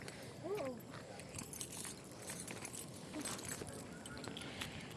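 Keys jangling in short metallic bursts, the small clinks coming and going across a few seconds with some background movement and no clear talk.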